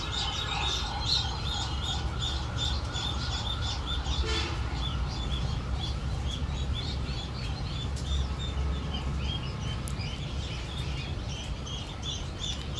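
Newly hatched ducklings in a hatchery with about 3000 eggs peep constantly in a dense high chorus of overlapping chirps over a steady low machine hum, continuous and fairly loud throughout.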